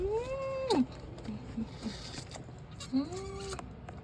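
Two drawn-out cat meows, close and clear, with a brief gap between them, over quiet background noise.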